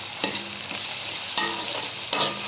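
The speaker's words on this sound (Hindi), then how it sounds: "लहसुन अदरक को भी थोड़ा सा ब्राउन कर लीजिए।" Garlic and ginger frying with browned onions in a pan for chicken haleem, a steady sizzle broken by a few scraping stirs of a spoon.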